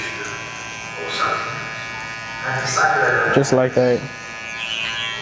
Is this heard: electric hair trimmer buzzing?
yes